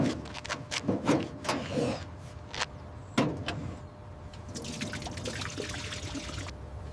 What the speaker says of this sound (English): Adding fuel.